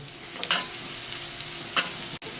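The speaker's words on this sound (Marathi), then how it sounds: "कांद्याला आहे ना थोडस परतून घेऊ" Onions, with a paste already added, sauté in a tawa for Mumbai-style tawa pulao, giving a steady close sizzle broken by two brief bright scrapes of a spatula.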